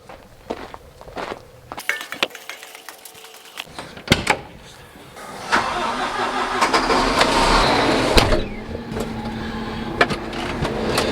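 A farm sprayer's engine cranks and catches, then settles into a steady mid-pitched running drone, preceded by footsteps, door clunks and cab knocks up close as someone climbs in.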